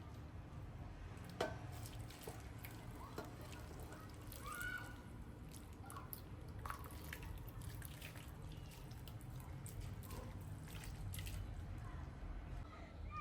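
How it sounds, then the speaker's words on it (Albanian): Hot water is poured over grape leaves in a tray, a soft, low splashing and trickling with faint drips, fairly quiet and continuous, with occasional small knocks and squishy handling sounds. "Kalojmë ujin kështu valë të nxehtë tek gjethet."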